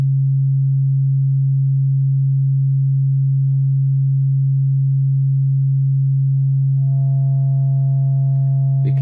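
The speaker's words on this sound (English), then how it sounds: "We can see we're starting to distort that waveform more and more." A steady sine tone played on a Haken Continuum fingerboard synthesizer, holding alone and then growing buzzy with added overtones as padding is applied, distorting the waveform toward the end.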